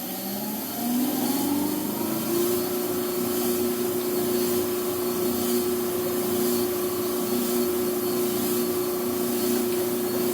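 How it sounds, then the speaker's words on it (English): A machine grinds a 22-inch f/4.0 telescope mirror with 25-micron grit, spinning up at the start and then settling into a steady, loud, continuous motor hum with a grinding rasp and no talking. "Now 25 micron doesn't grind very fast, but with high speed and everything, it will do the job for us."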